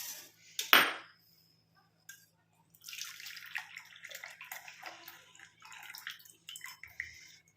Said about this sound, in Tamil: இப்போ இதை வந்து நம்ம ஃபில்டர் பண்ணி எடுத்துக்கலாம்